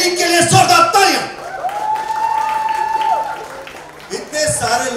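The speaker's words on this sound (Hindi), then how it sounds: "सिनेस्टार क्रिकेट लीग के लिए जोरदार तालियां" A crowd applauds and cheers at the grand launch of a celebrity cricket league, loud clapping and whoops that swell up, fade under a lingering tone, then return near the end.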